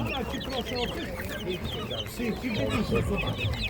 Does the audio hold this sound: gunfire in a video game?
no